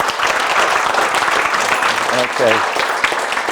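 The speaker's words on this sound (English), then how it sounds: "You applaud now." An audience at a talk on old Walpole photographs breaks into a steady round of applause filling the whole moment, with a brief spoken word rising over the clapping partway through.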